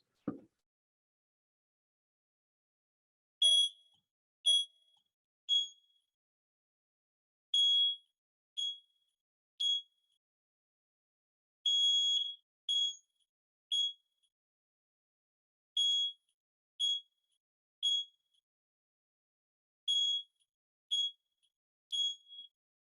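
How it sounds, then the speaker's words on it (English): After a brief thump, a smoke detector triggered by its test button sounds a series of sharp, shrill electronic beeps in irregular short bursts, loud against otherwise near silence. "press the test button on the smoke detector and you'll hear it trigger"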